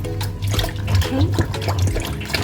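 Washed fresh vegetables for pakora squeezed by hand, giving continuous wet squelching and dripping with a soft water-like wash, while a voice speaks faintly underneath.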